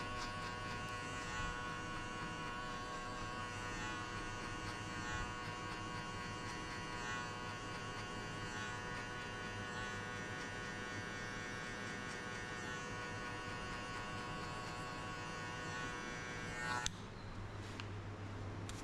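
An electric hair clipper hums steadily at close range during a buzz-cut-to-high-fade haircut, a continuous tonal buzz that runs unchanged before cutting off abruptly near the end, with no talking over it.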